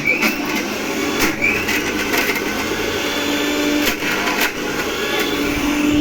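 A kitchen mixer grinder runs continuously at full speed, a loud, close motor whir with a rattling, grinding edge and no pauses or talking.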